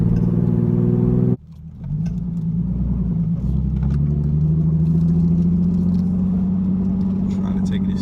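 Nissan 370Z fitted with a Tomei Expreme catback exhaust, heard from inside the car: a loud steady drone, a brief drop as the gear changes, then the engine note climbs steadily as the car accelerates.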